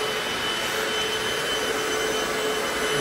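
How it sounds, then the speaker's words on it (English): A Hoover FloorMate floor cleaner sucks water back up off an office wood and laminate floor, giving a steady, loud, close vacuum whine with a constant high tone that never lets up. "this machine's a Hoover. It's a floor mate."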